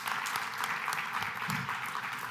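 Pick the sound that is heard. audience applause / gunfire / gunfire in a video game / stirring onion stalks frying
audience applause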